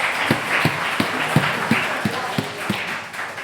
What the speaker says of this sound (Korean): 우리 아버지 하나님께 감사와 영광의 박수 올려드리겠습니다